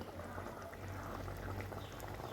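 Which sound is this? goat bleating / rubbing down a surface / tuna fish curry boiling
tuna fish curry boiling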